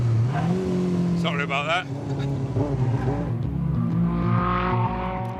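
Racing car engine accelerating through the gears, with rising and falling engine tones and a shift down to third before pulling hard out of a corner; someone talks over the engine.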